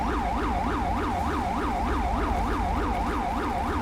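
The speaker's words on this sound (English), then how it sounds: "And who the hell has their siren going?" A wailing emergency siren in the police-mod video game LSPDFR sweeps up and down rapidly in a steady repeating cycle, moderately loud with a low rumble beneath.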